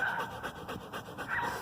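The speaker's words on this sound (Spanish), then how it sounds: "aquí está el perro" A dog pants steadily and rhythmically close by during an outdoor walk, with soft breathy puffs continuing throughout the short moment and no talking over it.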